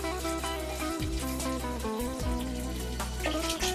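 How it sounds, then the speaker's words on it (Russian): Cold water is poured into a pot over bone-in beef pieces and chickpeas, a continuous close, rushing splash running steadily throughout, with no talk. "Куски говядины на кости и горох кладем в кастрюлю и заливаем холодной водой."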